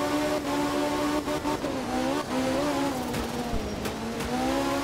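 Rally car racing a wet Australian stage in the art of rally video game, engine droning and revving steadily with pitch rising and dipping through gear changes, loud and close throughout.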